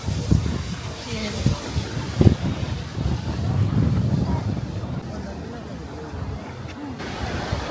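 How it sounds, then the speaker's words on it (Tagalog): Strong gusting wind beside a river in Wulai district, Taiwan, buffets the microphone with low rumbling bursts and a sustained roar, while people talk beneath it. "Sobrang lakas ng hangin dito dahil merong river sa baba."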